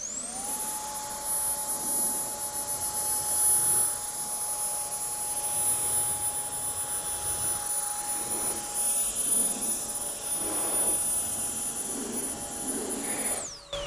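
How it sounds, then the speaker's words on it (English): Air blower drying a car's water-repellent paintwork during detailing, a steady loud whining roar with a high tonal whistle that runs continuously and alone for the whole stretch. "if you've got a handy blower, when you've got repellency on the paint"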